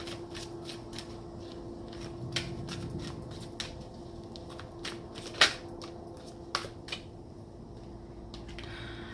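Tarot cards shuffled by hand before drawing a single card, heard as faint, close riffling and soft scattered card snaps against a quiet background.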